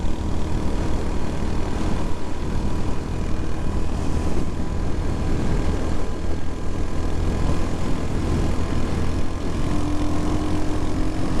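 A Royal Enfield Hunter 350 motorcycle cruises at about 80 km/h, its engine a constant, unbroken drone blended with heavy wind rush, loud and close throughout.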